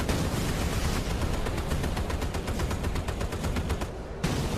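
Rapid, continuous booming artillery cannon fire in the video game Battlestations: Midway, heavy blasts in dense succession, loud and close, with a brief gap near the end.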